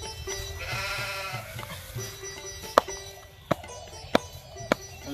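A tethered goat bleats in a steady, wavering call at close range, followed by several sharp knocks or taps.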